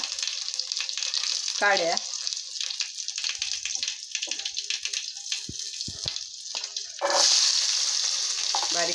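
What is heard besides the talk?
cumin and mustard seeds sizzling in hot oil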